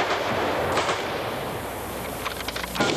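Vietnam War gunfire laying a curtain of fire ahead of an infantry company advancing uphill in a skirmish line, with sharp bursts and a cluster of rapid cracks over a rumbling background.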